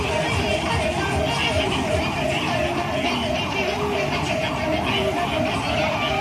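An ambulance siren wails loudly and continuously in traffic, its rapid rising-and-falling cycles repeating without pause over a background of road noise.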